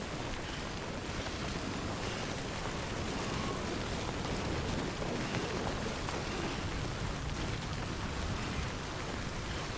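Steady, dense hiss of timefall rain in Death Stranding, an even wash of downpour with no breaks or distinct drops standing out, unaccompanied by voices.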